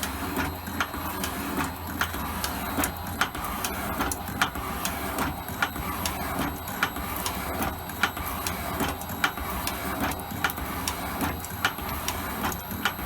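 Steady mechanical noise of an Elliot 10M metal shaper cutting, with a regular repeating click or tick about every half second, a continuous workshop rumble and no talking.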